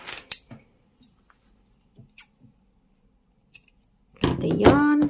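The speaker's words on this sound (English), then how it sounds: "cut the yarn and fasten off like this." Scissors snip through yarn in a few sharp, close clicks spread across a quiet stretch, followed by someone talking at the end.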